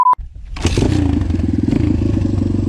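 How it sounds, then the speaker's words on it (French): A carbureted, air-cooled Apollo Sano DMZ 250 motorcycle starts with a sharp crank and then settles into a steady, lumpy idle, loud and close, running alone. "c'est une moto à carbu, refroidissement par air"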